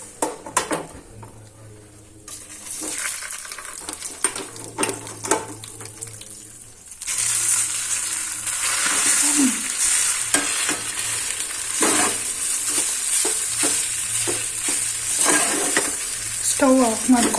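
Cooked rice being stirred into tamarind puliyogare paste in a pan, with soft scraping and mixing scuffs at first, then a steady loud sizzle with repeated spoon scrapes against the pan.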